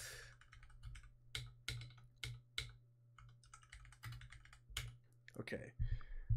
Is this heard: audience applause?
no